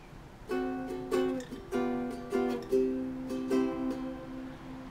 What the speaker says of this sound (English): That's a Hawaiian Vamp in C.